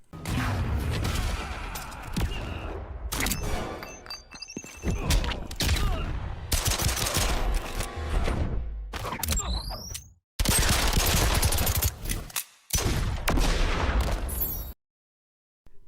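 Red Hood's super move in the fighting game Injustice 2 unleashes dense, loud bursts of gunfire and blasts, rapid volleys with mechanical clanks and brief gaps, ending in a sudden cutoff.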